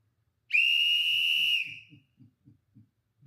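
A single loud, steady whistle from a whistle worn on a neck lanyard, held for about a second then tailing off, followed by faint soft tapping.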